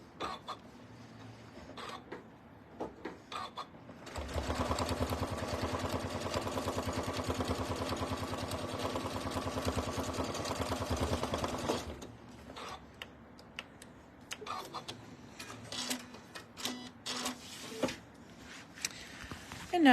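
A sewing machine runs in one steady stitching burst, stitching a cork roll-up organizer close to its metal parts. The run is loud and continuous, with quieter handling clicks and rustles before and after it.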